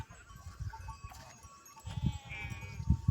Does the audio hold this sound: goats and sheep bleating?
yes